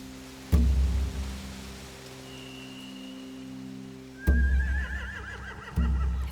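Horses whinnying in The Walking Dead Game Season 4, a video game: three sudden loud whinnies over a steady low hum, the second a long shaky neigh.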